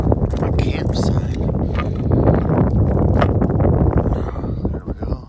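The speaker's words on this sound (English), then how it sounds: "The wind is knocking over my campsite." Strong wind gusting at a desert campsite in Quartzsite, buffeting the microphone in loud rumbling bursts, with a voice talking under the noise.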